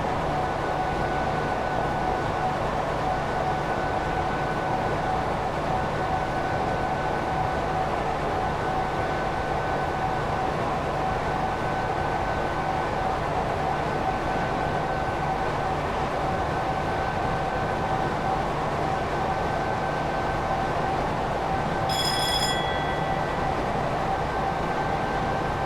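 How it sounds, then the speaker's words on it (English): Class 86 electric locomotive in Train Simulator 2016 running at full power on the Great Eastern Main Line from Ipswich to Liverpool Street, a steady broadband roar with constant motor hum and a brief high whine near the end. "So we should be able to just leave the train in full power in all of the 100 mile per hour speed zones on this journey."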